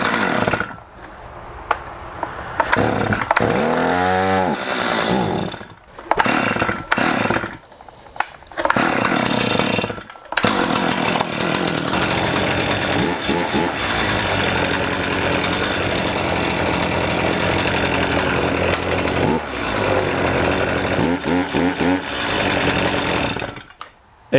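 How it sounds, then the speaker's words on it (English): A STIHL chainsaw with its bar and chain seized runs loud and steady close up, its engine revving and dropping in bursts early on before settling into a sustained, continuous drone. "I will start this saw up and you will see that what is actually seized is the bar and chain."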